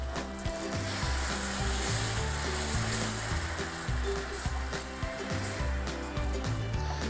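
Citrus juice and sugar syrup stirred in a hot pan, a loud, dense, continuous sizzle with steady bubbling and occasional stirring scrapes, close up.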